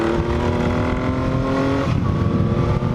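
A 1980 Yamaha XS850 Special motorcycle accelerates hard with a loud, close engine roar. The pitch shifts as it revs, and rough popping is mixed into the drone.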